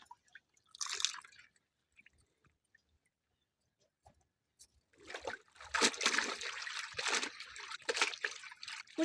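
Clothes being washed by hand with water in a home: soft dripping and trickling, then a longer stretch of splashing and sloshing with scattered drops, fairly close and moderately loud, with no voices.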